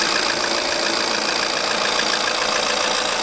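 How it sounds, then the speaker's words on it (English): A 2-litre diesel car engine of about 140 horsepower idles steadily, a constant, even hum heard close up with no talking over it. "So it's a 2-litre diesel, makes about 140 horsepower, and it's a very good engine."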